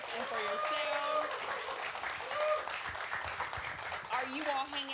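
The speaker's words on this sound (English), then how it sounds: "round of applause, please, for our panelists and for yourselves" An event audience applauds panelists with steady, continuous clapping across the room, overlaid by cheers and voices calling out throughout.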